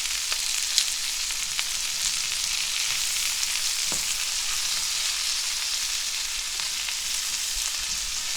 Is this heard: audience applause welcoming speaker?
no